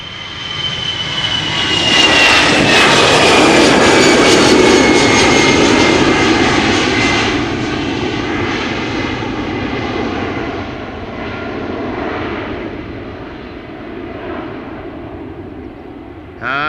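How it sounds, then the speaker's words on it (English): A thirteen-year-old EasyJet Airbus A319 bound for London Luton roars down Schiphol's Polderbaan on takeoff, a loud, sustained jet rumble with a falling whine that peaks early and slowly fades as it departs, no voices. "EasyJet flight 22514, going to London Luton, A319, the Gaski, 13 years old"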